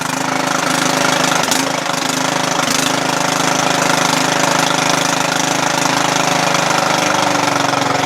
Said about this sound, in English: I don't want to run it at high throttle just because I don't know the condition of this engine so much